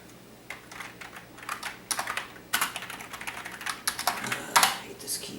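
Keystrokes on an HP Pavilion a1000y desktop keyboard, irregular bursts of clicks and taps at close range over a steady low electrical hum, with no voices.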